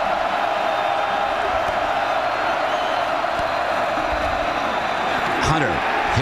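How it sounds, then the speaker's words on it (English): Steady stadium crowd roar at a 2008 college football game between Texas Tech and Oklahoma State, a dense continuous wash of voices with faint whistles and rising cheers near the end, with commentary on top. "Crowd making it tough for Zach."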